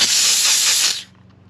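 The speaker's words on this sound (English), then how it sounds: "So when we're using steam" A steam cleaner blasts an engine bay with a loud, close, steady hiss of hot pressurized vapor for about a second, then cuts off abruptly into near silence.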